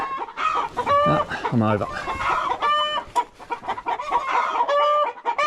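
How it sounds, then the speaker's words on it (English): Agitated chickens cluck and squawk in a garden among tomato plants, bursts of frantic clucking with a rooster-like call, close and loud, with someone speaking briefly under the noise. "as the chickens go ballistic"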